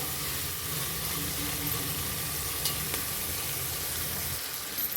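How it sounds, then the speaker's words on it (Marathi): Peas and potato stir-fried in oil hiss in a steady, moderately loud sizzle with faint scraping of a spatula across the pan, unbroken from start to finish. "वटाणा आणि बटाटा टाकून घ्यायचा आहे तो पण तेलावर आपल्याला छान परतून घ्यायचा आहे बघा आणि छान हलवून घ्यायचे एकदा"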